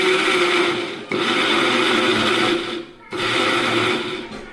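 Mixer grinder grinding mutton keema in short bursts, a loud whirring motor that runs, cuts off briefly, then starts again, with three pulses close by and no talking.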